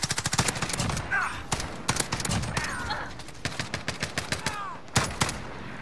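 FAL rifle fire in the shooter Modern Warfare: repeated sharp single shots in quick bursts, close and loud, with brief gaps between volleys and some faint game noise underneath.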